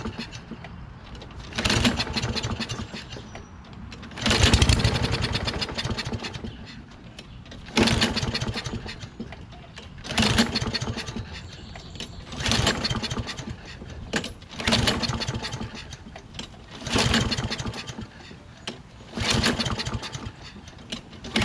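A Toro Recycler lawn mower with a Kohler XT675 engine runs rough, surging and dying away in repeated uneven bursts of engine roar separated by near-silent gaps.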